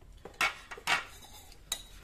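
A bamboo fiber bowl is picked up and set down a few times, giving brief hollow knocks and light clatters against a quiet room.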